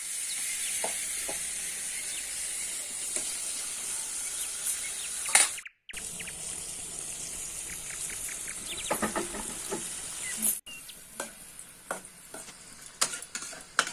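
Potatoes frying in oil in a pan for a village-style small fish curry, with a steady sizzle and occasional clicks and stirring scrapes, broken by a brief gap in the middle.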